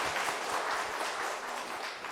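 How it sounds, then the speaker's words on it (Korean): Church congregation applauding right after a baptism is proclaimed, a steady, dense wash of many hands clapping together in a reverberant hall, sustained evenly across the moment with no voices over it. "박수로"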